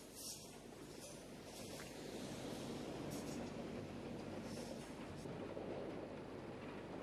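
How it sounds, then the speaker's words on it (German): A Class 642 diesel multiple unit running as a double unit rolls past the demolition site of an old roundhouse in summer, with a steady, continuous rumble of wheels and engine throughout, heard without any talk. "Im Sommer 2004 rollt an der Abrissfläche des ersten Rundschuppens eine 642 Doppeleinheit vorbei"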